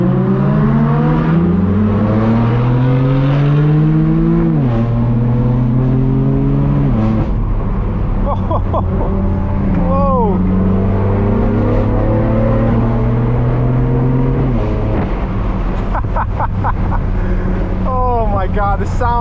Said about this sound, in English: Listen to these Lambos.